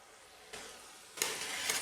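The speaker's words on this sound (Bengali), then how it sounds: "আমি আবার ঢাকা দিয়ে রান্না করব আর মাঝে মাঝে নাড়াচাড়া করে দেবো" Cabbage curry with ginger cooks in a pan with a soft, low sizzle that swells in two short bursts as it is stirred, faint and close, with no voices.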